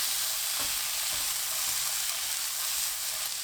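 Julienned sweet potato stir-fried over high heat in a pan with oil and garlic: a steady close sizzle with a few soft stirring scrapes, no speech.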